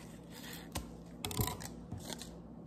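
Scissors snip a loose thread off a pair of underwear in a few quiet, close cuts, with faint rustling of the fabric between them.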